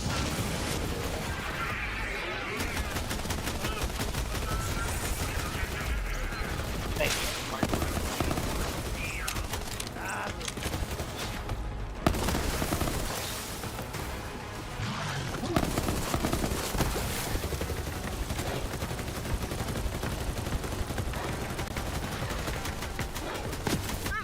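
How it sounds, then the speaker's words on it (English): Rapid pistol fire in the shooter game Borderlands 3, with bursts of shots running almost continuously over dense game sound effects and explosions, loud throughout, with occasional talk underneath. "This pistol's nice. Pistol's melting things."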